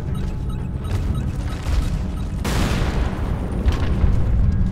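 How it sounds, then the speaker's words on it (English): A grenade explosion in Tomb Raider: Underworld, one sudden loud burst midway that spreads into a rumbling, noisy tail over continuous low background sound. "Use a grenade."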